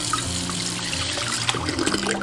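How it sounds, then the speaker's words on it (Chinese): Water runs steadily from a tap, splashing and trickling over marinated silver pomfret held beneath it, close by. "腌制好的银鲳鱼，把表面冲洗干净。"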